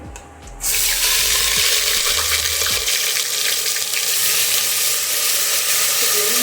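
A loud, steady sizzle of onion frying in oil that bursts in after a brief quieter moment and hisses on continuously.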